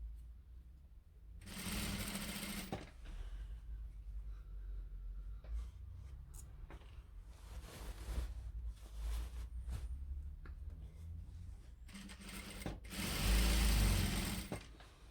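Sewing machine stitches the lining into the body of a high-necked Korean durumagi coat, running in loud bursts at the start, middle and end with quieter pauses and handling between.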